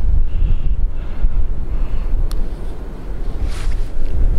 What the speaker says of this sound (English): This wind's so strong.